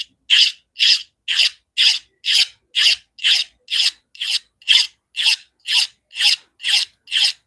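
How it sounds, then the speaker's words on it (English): A blade edge being sharpened with a micro bevel: fourteen evenly spaced, loud rasping strokes in a steady rhythm, close and alone. "after I've done that, I'll sharpen the edge."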